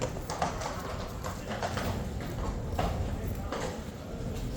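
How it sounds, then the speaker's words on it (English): King's Guard lifeguard horses walking on a hard street give a steady, close clip-clop of many hooves in an overlapping rhythm, with faint voices in the background. "glorious lifeguard horses with the boxman"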